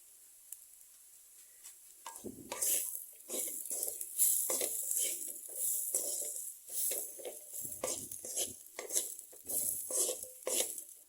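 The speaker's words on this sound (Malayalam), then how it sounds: "ഇനി ഇതേപോലെ ഡ്രൈ ആയി ഒന്ന് ചെക്ക് ചിക്കിയെടുക്കാം" Bitter gourd thoran being stir-fried dry in a pan: a spatula scrapes and clatters repeatedly over a soft sizzle, in an uneven steady rhythm of close, moderately loud strokes.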